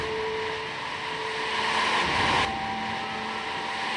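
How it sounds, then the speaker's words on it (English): A Falcon 9 rocket lifts off carrying NASA's DART spacecraft, a broad sustained roar heard from a distance that swells and crackles briefly, then holds steady. "liftoff of the Falcon 9 and DART on NASA's first planetary defense test"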